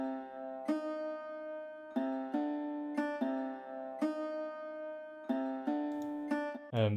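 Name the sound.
signature pluck sound from beat producer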